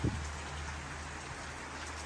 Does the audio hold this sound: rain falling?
yes